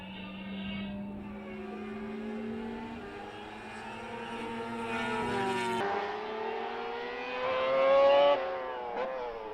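Racing sidecars on a circuit during a race, engines rising in pitch as they come past, loud and close, with a harder surge of revving near the end.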